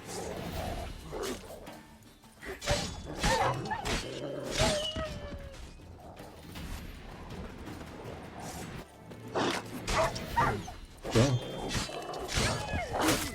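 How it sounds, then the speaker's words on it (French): A wild dog in the video game The Witcher 3 snarls and barks in bursts, mixed with busy game sound effects and background music. "Chien sauvage."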